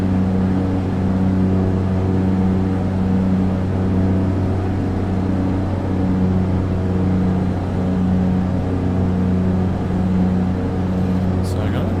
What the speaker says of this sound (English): Engine sounds really loud.